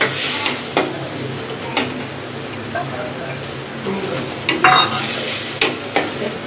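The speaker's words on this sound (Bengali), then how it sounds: "নেড়ে চেড়ে নিব।" A spoon stirs spice paste frying in oil in a pan while making a spicy tomato poa fish curry, with repeated sharp scrapes and clinks against the metal over a steady soft sizzle, close by.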